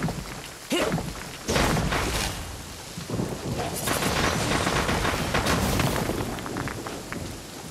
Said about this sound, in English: Dude, the rain is so long!